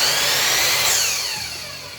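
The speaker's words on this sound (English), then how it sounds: "Sounds like a miter saw though." A WEN M1011T sliding miter saw with zero rear clearance, motor whining high and loud, then winding down with a falling pitch as the blade spins to a stop.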